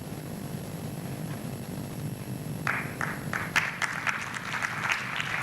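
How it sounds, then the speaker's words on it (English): Applause starts midway at a youth forum, with scattered claps building to steady clapping over a low, constant room hum. "Let's give her a round of applause."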